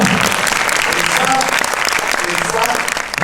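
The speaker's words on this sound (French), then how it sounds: "Donc on peut les applaudir." A cinema audience applauds before a film screening with the film crew present, brisk sustained clapping with scattered louder claps and brief vocal murmurs mixed in.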